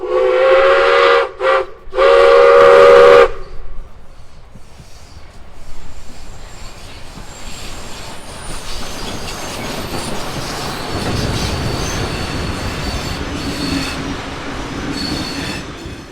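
Steam locomotive 621 sounds a loud, near whistle in two short blasts and then one longer one. The train then rolls on with a steady rumble, wheel clatter and faint squeals.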